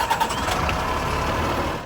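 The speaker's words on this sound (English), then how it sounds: "start the engine." A truck engine cranks and catches before an air brake check, then settles into a steady, close, rumbling idle that cuts off abruptly at the end.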